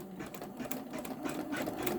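A Janome Memory Craft 10001 embroidery machine stitches a scarecrow design, its needle running in a steady, fast mechanical rhythm close to the mic with no talking.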